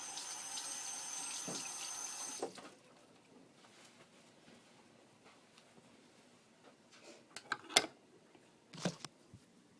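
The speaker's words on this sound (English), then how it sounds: "Rinse my hands." Hands rinsed under a running kitchen tap: water gushes loudly for about two seconds, then cuts off, leaving quiet room tone with a few faint clatters and knocks.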